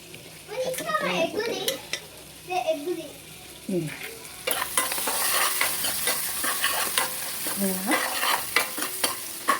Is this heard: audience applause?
no